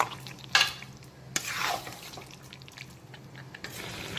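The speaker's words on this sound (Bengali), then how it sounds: "এখন এই আলুগুলোকেও চিকেনের সঙ্গে ভালো করে প্রথমে মিক্সড করে নেব।" Fried potatoes and chicken are stirred in a kadai over medium flame, with scraping spatula strokes and soft sizzling, a couple of sharper clinks near the start, no talking.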